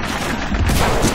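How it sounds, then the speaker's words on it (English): Covering fire in the video game Medal of Honor Frontline: a short, loud burst of rapid gunshots, close and continuous, running through the whole moment alone. "We'll give you cover fire."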